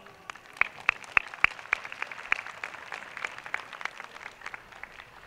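An audience at the Hitachi-no-kuni YOSAKOI festival applauds, with sharp distinct claps near at first, then a looser, thinner patter that continues steadily without voices.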